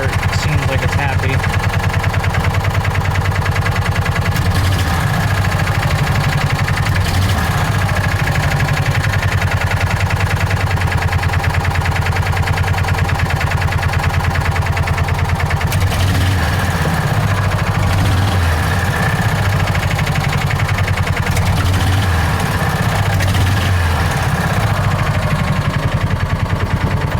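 A John Deere Gator 4x2 utility vehicle with hard-starting and idle trouble idles steadily up close, a continuous low rumble with mechanical vibration running unbroken throughout.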